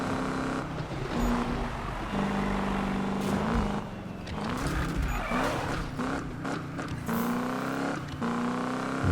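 A hot rod car engine revs and drones through gear changes in Need For Speed 2015, rising and falling in pitch with faint tire squeal, steady and close without speech.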